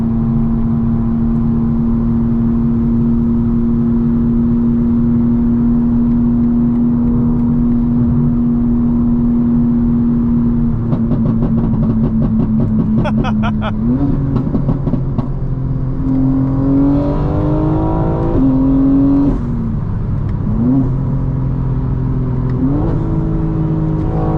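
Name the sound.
900 hp 2025 BMW M4 Competition xDrive driving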